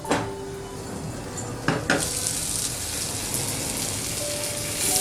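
Chicken pieces frying in a pan over a medium flame give a steady, close sizzle, broken by a couple of brief utensil clinks near the start, with no talking.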